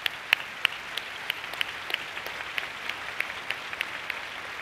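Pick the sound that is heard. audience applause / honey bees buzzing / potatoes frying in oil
audience applause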